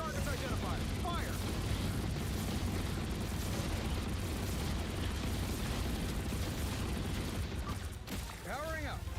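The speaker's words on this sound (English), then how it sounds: "Rockets, fire!" Rocket barrage explosions from a hero in the Marvel Rivals video game, a dense continuous roar of blasts and bursts layered under game voices and effects throughout.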